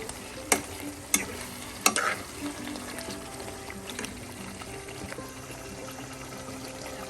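Chicken pirattu stirred in a frying pan, with a few sharp spoon knocks against the pan early on over a low, steady sizzle and soft scraping.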